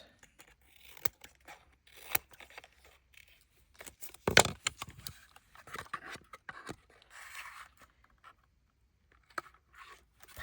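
Scissors snip through paper for washi tape quilt cards, a few close, sharp cuts standing out among soft handling rustles and scrapes in a quiet room.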